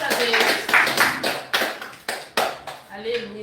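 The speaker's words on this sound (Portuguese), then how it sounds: "As palmas que louvam o nome do Senhor Jesus, igreja." Church congregation clapping in praise during a Friday evening worship service, loud uneven bursts of hands with voices mixed in.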